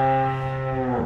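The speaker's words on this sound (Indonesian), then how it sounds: "Jenis sapi ini jenisnya simental." A Simmental cow on a farm gives a single loud, close, drawn-out moo that fades out just before it ends.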